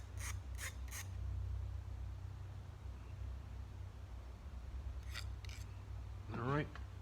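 A hand file rasps across engine piston rings in short, quiet strokes, with a few scraping passes at the start and again near the end, close up in a quiet workshop.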